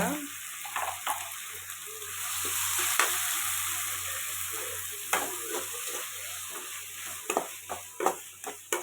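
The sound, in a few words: tomatoes sautéing in a pan for chicken gravy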